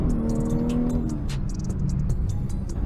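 A car with upgraded throttle response accelerating, a steady low engine drone with rising tones under light road and wind noise, heard from inside.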